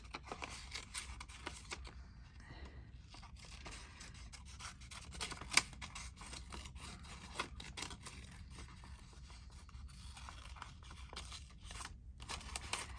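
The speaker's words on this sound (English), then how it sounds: "I will snip off spindly bits" Scissors snip repeatedly at spindly bits of paper or thread while a crafter makes document holders, producing soft, close crisp cuts and rustling scratches scattered irregularly throughout, with one sharper snip standing out.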